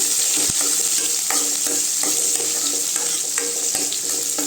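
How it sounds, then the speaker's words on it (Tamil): Curry leaves, green chillies and large onions frying in a pan for egg curry, a dense bright sizzle with repeated spatula scrapes and taps as they are stirred, close and without speech. "கருவேப்பிலை பெரிய வெங்காயம் நல்லா கிண்டி விட்டுக்கோங்க"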